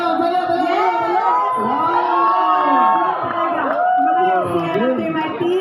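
An audience at a Filipino business talk cheers loudly, with continuous overlapping shouts, whoops and excited voices and little distinct clapping, close and sustained throughout.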